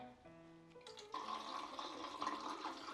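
Film developer part A from a Flic Film Simplicity kit poured from a bottle into a development tank, a close, steady gush of liquid that starts about a second in and keeps flowing to the end.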